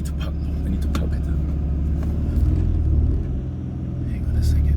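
A small 2004 Perodua Kancil idles and creeps while being parked, its low engine rumble steady and close with slight swells as it moves, under occasional muffled voices.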